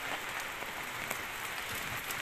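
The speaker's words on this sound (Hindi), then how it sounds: "बारिश आज हो रही है" Heavy rain pours steadily in Cyprus, a dense hiss with scattered sharper drop impacts and no voices.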